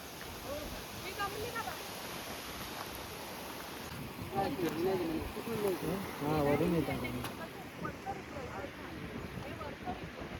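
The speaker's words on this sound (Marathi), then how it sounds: "धबधब्याचं उगमस्थान" Water rushes steadily at the top of a waterfall near Khopoli, a dense, continuous roar with wind buffeting the microphone, while people talk over it throughout.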